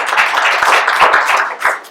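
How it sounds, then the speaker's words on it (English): A live audience at a League of Women Voters event on running for local office gives a round of applause, dense overlapping clapping held steady for two seconds. "I'd like to have a round of applause"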